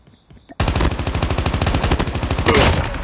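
Rapid automatic gunfire in the mobile video game Call of Duty Mobile, with a steady rhythm of loud, close shots that begins abruptly after a brief quiet moment and keeps going until the end.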